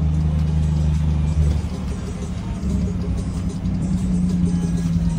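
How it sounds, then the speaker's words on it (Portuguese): A Volvo FH truck's engine brake: a loud, continuous low rumbling drone with a pulsing throb, steady and close, shifting slightly in tone partway through. "Olha o freio motor desse caminhão."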